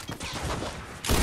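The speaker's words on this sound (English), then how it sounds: "I'm getting sniped." Rapid Fortnite gunfire crackles in a dense burst lasting about a second, then a sharper crack lands at the end, with no voices over it.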